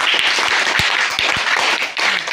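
A group of schoolchildren at a fun game claps their hands together, producing a loud, dense patter of overlapping claps that keeps going without a break for a couple of seconds.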